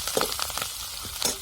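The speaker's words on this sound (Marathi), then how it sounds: "बघा याला चांगलं परतून द्यायचं." Horse gram ghugri is stirred and sautéed in a pan, giving short bursts of soft sizzling with light clinks of a spoon against the pan, close and fairly quiet.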